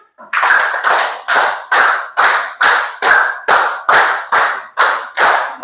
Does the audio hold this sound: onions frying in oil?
no